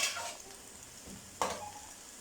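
Onions stirred and frying in a pot until golden brown, a quiet steady sizzle with a soft scrape of the spoon partway through.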